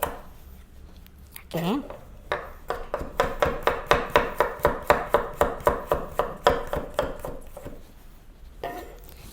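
Knife thinly slicing vegetables on a cutting board, a steady run of about twenty quick even chops close by, with someone speaking before and after.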